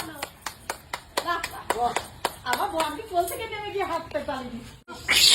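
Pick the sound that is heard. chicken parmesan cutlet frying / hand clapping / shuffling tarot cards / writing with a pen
hand clapping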